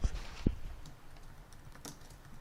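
Typing on a computer keyboard, scattered soft key clicks at a steady pace, faint and close, with a couple of louder taps near the start.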